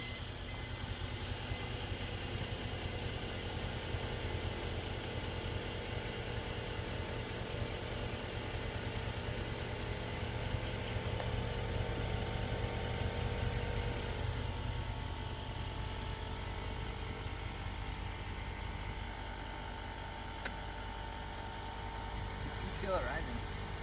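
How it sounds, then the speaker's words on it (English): A Mercedes-Benz with AirMatic suspension rises on its system, a steady mechanical whir and hum over a low idling engine throughout, with a voice talking intermittently over it. "Rising. Whoa, you can hear the hydraulics."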